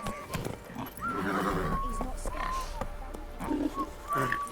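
Roach, a horse in The Witcher 3, neighs and whinnies loudly up close over galloping clip-clop hooves, with a voice speaking at the same time.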